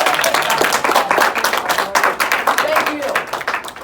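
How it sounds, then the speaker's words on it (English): Classroom students clap after a presentation, a loose, uneven patter of hands with some talking mixed in. "I'd like you guys to give Spencer a round of applause for his good work"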